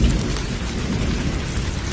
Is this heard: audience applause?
no